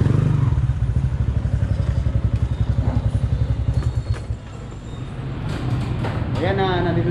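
A motorcycle engine putters with a rapid, throbbing idle close by, then fades as other traffic and street noise take over.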